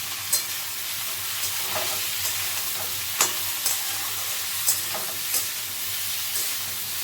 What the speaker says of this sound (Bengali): বেগুনটা দিয়ে একটু নেড়ে চেড়ে নিয়ে আপনি ঝিঙেগুলো দিয়ে দেবেন।